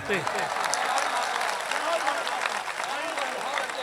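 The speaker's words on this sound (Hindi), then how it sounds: "आपसे तालियां मांगता हूं" An audience at a Haldwani mushaira claps loudly and steadily, a thick crowd of hands with faint voices and calls mixed in beneath it.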